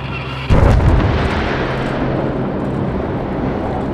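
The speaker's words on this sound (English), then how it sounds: "A second bomb has just landed." A bomb lands in a double-tap airstrike in Syria: one sudden, loud, deep blast with a long rumbling tail fading over several seconds, heard alone without talk.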